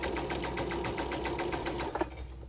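A sewing machine runs a straight basting stitch with no backstitch, a steady rapid needle clatter at close range that stops abruptly near the end.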